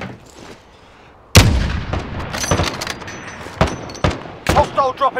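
Video game gunfire shooting at an enemy in the sky: a sudden loud burst followed by repeated heavy shots and bangs, with a player's voice talking briefly over the end.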